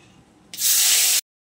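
Onion paste dropped into hot oil left from frying fish, a sudden loud sizzle that hisses steadily for under a second, then cuts off.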